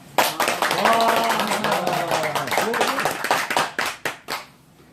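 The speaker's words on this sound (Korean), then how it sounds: "즐거운 성경 공부 시간입니다 하면 함성과 함께 박수 치는 겁니다" A Bible study group shouts together and claps in a sudden joyful burst, voices cheering over brisk clapping that tapers into a few separate claps as the noise dies away.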